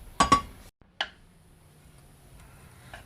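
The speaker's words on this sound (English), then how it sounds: "Now we're going to scrape that pan out, and we're going to save every bit" A utensil clinks and taps against a pan while sausage fat is scraped out: two quick sharp metallic hits, a third about half a second later, and a faint tap near the end, with quiet between.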